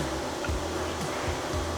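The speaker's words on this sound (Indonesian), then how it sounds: "Kekurangan yang terakhir adalah masalah dari fan noise." Steady broadband whir of the cooling fan in a One X handheld gaming PC, a continuous airy hiss with a low hum underneath, constant and fairly close throughout.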